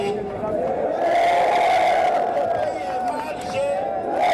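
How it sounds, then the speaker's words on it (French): A protest crowd in Conakry chanting hostile slogans against President Alpha Condé and the electoral commission chief: a steady, loud mass of voices with a sustained chanted tone that carries through the whole clip without a break. "Des slogans hostiles au président Alpha Condé et au président de la Commission électorale nationale indépendante sont scandés"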